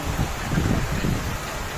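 Steady broadband hiss of rain falling close by in a rural province, continuous and fairly loud with a low rumbling undertone, no voices.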